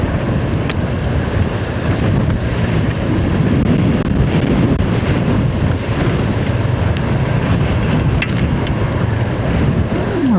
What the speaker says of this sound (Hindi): ये जो ना आंधी वाला मौसम शुरू हो गया यहाँ पे।